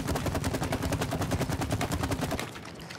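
Rapid gunfire from the co-op video game It Takes Two, a quick burst of evenly spaced shots for over two seconds that stops abruptly, with no talk.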